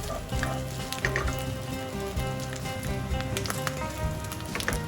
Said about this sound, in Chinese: 开大火慢慢煎炒，主要是把猪油尽量多的给逼出来。